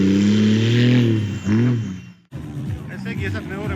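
A Nissan Patrol fitted with an M57 engine at the Surebi off-road festival, its motor droning and revving nearby while someone talks over it, then rising again after a brief dip.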